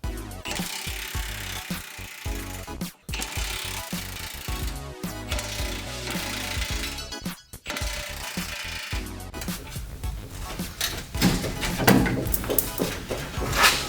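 A ratchet wrench undoes the cross member bolts on a Chevrolet S10 truck, giving bursts of rapid clicking broken by brief pauses, close and fairly steady over a metallic workshop clatter.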